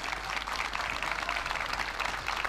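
A crowd at a 2018 military parade applauds the Chilean Army and volunteers, producing a steady wash of many hands clapping at moderate distance, fairly even in loudness across the short stretch.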